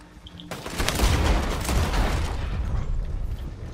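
Video game gunfire during a multiplayer shootout, a dense loud fusillade of rapid shots and booms that rolls on almost without pause after a sudden start, with no voices.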